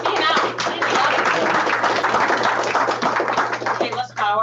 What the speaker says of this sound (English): Let's just give a round of applause for being out.